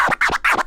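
Turntable scratch with the crossfader open and one click, making two short chirping record strokes, loud and close, repeated a few times with no talking.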